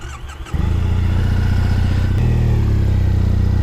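A Triumph Bonneville motorcycle engine catches and settles into a loud, steady, throbbing idle close by, with a rhythmic mid-low pulse and a slight rise in revs partway through; no voices.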